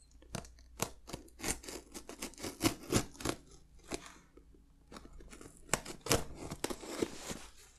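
Heavy-duty package tape on a box is cut with scissors, heard as close, crisp snips and crunching cuts in an uneven rhythm with no talking.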